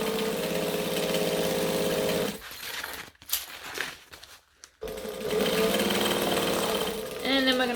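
A sewing machine stitches a fabric seam in a loud, fast whirring run, pauses briefly with a few soft clicks and handling noises, then resumes its steady buzzing drive.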